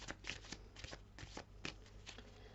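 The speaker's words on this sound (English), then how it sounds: "So let's pull some more cards." Tarot cards shuffled and pulled from the deck at close range, a steady riffling patter with repeated sharp flicks and slaps as individual cards are drawn.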